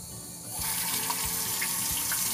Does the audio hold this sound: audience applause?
no